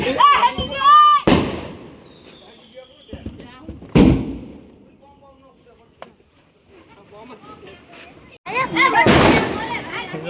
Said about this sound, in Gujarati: બધા વારા ફતી ઘા કરે છે ફટાકડા